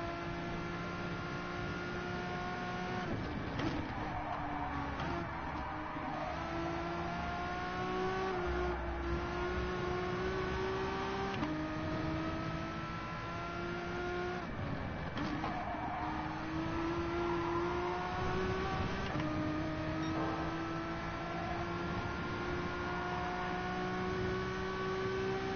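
A GP2 race car engine on a lap, its high-pitched whine climbing through the gears, cutting sharply at each upshift and rising again, loud and sustained with no talk.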